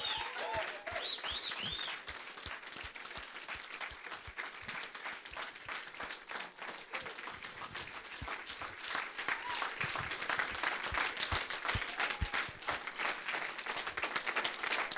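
A children's church audience applauds the young leaders, sustained crowd clapping that builds and grows louder across the stretch, with scattered cheers and a few voices mixed in.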